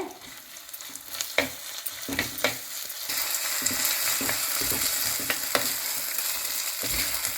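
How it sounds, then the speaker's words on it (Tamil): Onion, curry leaves and chopped tomato sauté in a pan for a Kumbakonam kadappa, a steady close sizzle broken by sharp scrapes and clinks of a spoon stirring against the metal. "ஒரே ஒரு தக்காளி கட் பண்ணி வச்சுருக்கிறேன். அதையுமே சேர்த்து நல்லா வதக்கி விடுங்க."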